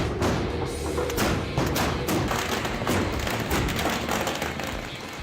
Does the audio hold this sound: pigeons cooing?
no